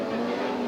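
Chevrolet Grand National sport trucks race flat out on a Las Vegas dirt track, a steady, loud engine drone holding one sustained pitch throughout with no pauses.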